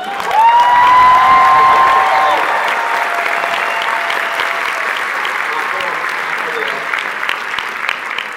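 Loud, sustained audience applause with some cheering fills a convention hall at a Star Wars Celebration panel honouring Warwick Davis, peaking early and then holding steady with dense clapping.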